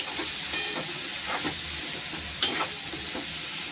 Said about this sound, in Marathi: हे आता व्यवस्थित असे ढवळून घ्या